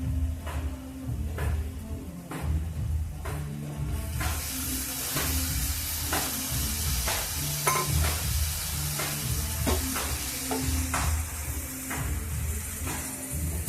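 Banana flower (mocha) tossed into a pan with potatoes and prawns, frying with a steady sizzle and hiss while a spoon scrapes and stirs in repeated strokes; the sizzle swells louder midway and stays close and continuous.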